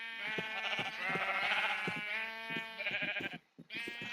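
Sheep in the Minecraft video game bleat in a steady series of quavering, drawn-out cries, clear and close, with a short gap near the end before another bleat begins.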